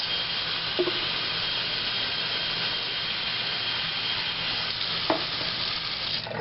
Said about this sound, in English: pick up the jar, fill it up, rinse it out, do that a couple of times